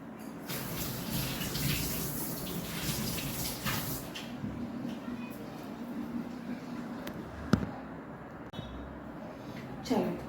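Water is poured into sugar in a home kitchen to make syrup for kaju jalebi, a faint, steady splashing trickle with a few soft knocks near the end.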